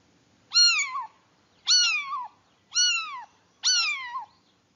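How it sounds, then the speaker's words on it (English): A cat meows four times in a clean, evenly spaced series, each call a clear, loud, falling mew lasting about half a second against near silence, with no talking. "The meowing sound is only for a cat."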